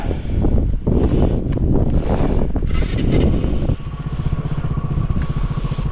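Loud, rough engine drone of a scooter with a noisy exhaust while riding on a long-distance rally, with gusty wind buffeting the microphone and a pitch change partway through.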